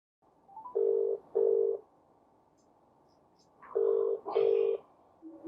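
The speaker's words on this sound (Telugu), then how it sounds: "మరి ఇందులోంచి చేస్తే అతను ఎత్తుతాడా ఫోన్?" An outgoing telephone call rings on the line: two double ringback tones separated by a long pause, clear and fairly loud, with faint background noise and no talking.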